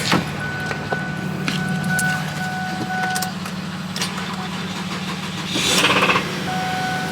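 A vehicle engine cranks and catches with a short burst of rattle at start-up, then settles into a steady idle. The idle swells briefly louder near the end before easing back.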